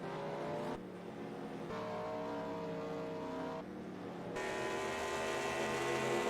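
Race cars in an eNASCAR video game at Chicagoland run past and down pit road, a steady, fairly quiet engine drone that shifts in pitch as different cars pass, with no voices.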